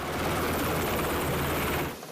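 A helicopter sits on the deck of a US Navy destroyer, its rotor thumping as a loud, steady roar that cuts off abruptly near the end, with no voices.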